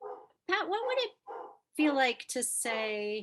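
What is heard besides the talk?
dog barking in the background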